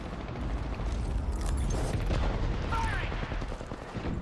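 Rapid automatic gunfire from a shooter in the Apex Legends battle royale game, a dense, sustained crackle of shots mixed with explosions and game effects, with voices talking over the fighting.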